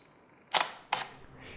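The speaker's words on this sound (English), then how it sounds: "Press the shutter button all the way to take your picture." Canon EOS 10D single-lens reflex camera firing its shutter: two crisp mechanical clacks about 0.4 seconds apart, mirror up then down, close and isolated against a quiet room.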